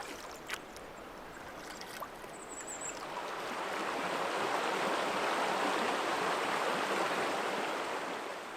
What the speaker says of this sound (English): There's a rapid there I can hear.